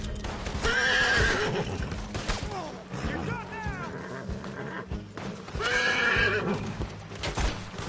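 Horses whinny loudly several times amid hoofbeats in the video game Red Dead Online, with scattered gunshots and a voice talking in between.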